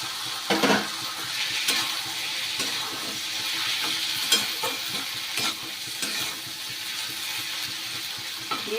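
Food sizzles and fries in a pan in a home kitchen, a steady crackling hiss broken by sharp clinks and scrapes of stirring, close and alone without voices.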